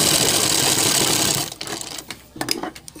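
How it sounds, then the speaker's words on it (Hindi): A sewing machine runs steadily while stitching a collar on a neck design, a dense continuous whir for about a second and a half, then stops, leaving a few faint handling clicks and rustles. "इस तरह आप सिलाई लगा दीजिए"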